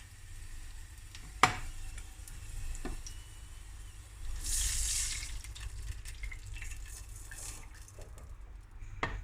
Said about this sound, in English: When you see that it is almost half fried, that is when we're going to add the water to it.